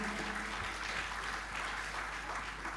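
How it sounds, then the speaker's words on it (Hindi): A concert audience claps for a band, a faint, distant, even patter of applause continuing steadily through the whole short stretch. "इनके लिए एक बार जोरदार तालियां हो जाए"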